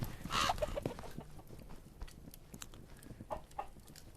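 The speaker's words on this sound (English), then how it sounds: "Watch out for chickens." Chickens cluck in the video game A Township Tale, a loud burst of rapid clucking at the start followed by a few scattered shorter clucks over steady background noise.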